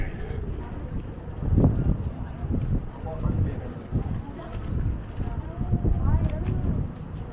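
Strong wind on Blackpool's Central Pier roars and buffets the microphone in gusts, loud and constant under someone talking throughout.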